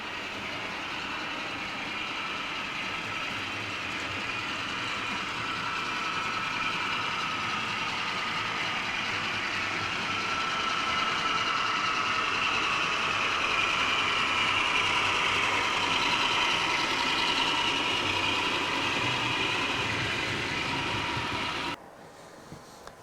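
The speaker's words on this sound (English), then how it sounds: "this little high-mech freight train" A small model railway freight train runs along the track of a layout, a close continuous rattling clatter of wheels over rail joints that swells slightly as it passes and cuts off abruptly near the end.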